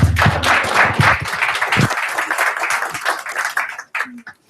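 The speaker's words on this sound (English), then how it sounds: "give a round of applause for Anne." An audience at a Service Design Drinks retail evening claps in a dense burst that fades after a couple of seconds, leaving sparse claps and a few scattered sounds.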